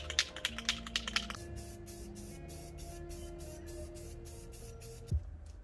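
Short spray-can bursts coat the back of a dash part from a Honda CB7 track build, a string of quick hisses up front giving way to a steadier, closer spray with faint tonal hum underneath, ending in a brief thump.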